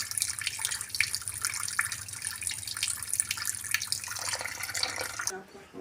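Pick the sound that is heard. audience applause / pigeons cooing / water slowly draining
water slowly draining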